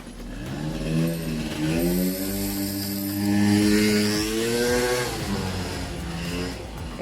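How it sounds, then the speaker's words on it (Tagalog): Motorcycle passing along a street during a morning walk, its engine droning and shifting pitch as it nears, loudest midway, then fading slightly, with no speech. "Kaya, ayun, ang ingay. May dumaan kasing nakamotor."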